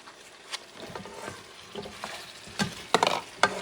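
Pork stew with potatoes and carrots is stirred in a pot, giving a soft scraping and sloshing with light sizzling and a few sharper utensil knocks against the pot near the end, close and fairly quiet.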